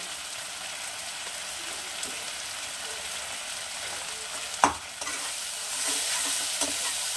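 Spices with salt and turmeric sizzle steadily in a pan for koi fish curry, a constant hiss of frying broken by one sharp clack of a utensil midway, with no voices.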